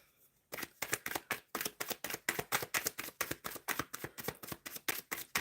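Tarot cards shuffled by hand in a steady rhythm of quick riffling bursts, close and crisp, with no talking over them after a brief quiet start.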